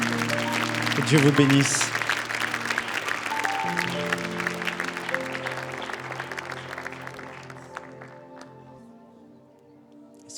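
Church congregation applauding and cheering in praise during a sermon, a broad wash of clapping that swells loudest early and slowly fades over about ten seconds, with a preacher speaking over it and a sustained organ or keyboard chord underneath.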